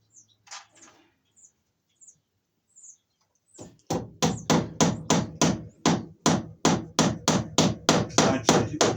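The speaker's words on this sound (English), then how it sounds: "This is the wire they did, so I'll staple that down. Then I'll get my wire stapled up here." Staples hammered in to fasten electrical wire while wiring a switch loop from an existing junction box: a few faint taps, then a loud, steady run of about fourteen sharp, close hammer blows in even rhythm, with light bird chirps early on.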